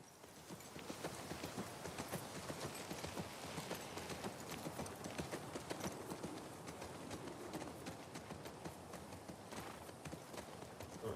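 Horse hooves clip-clop steadily in The Last of Us Part II as the horse walks along, a continuous, fairly quiet rhythmic clatter with no talk over it.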